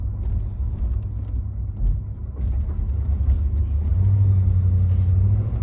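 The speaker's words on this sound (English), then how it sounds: "it's just like driving a 52-year-old car" A 1970 Pontiac GTO engine runs at a steady, deep low rumble from inside the car on the road. It swells slightly louder and heavier toward the end with no voices over it.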